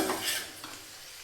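Peanuts and cashews are frying in oil in a pan, giving a soft, brief sizzle with a light stirring scrape, fairly faint and fading after the first moments.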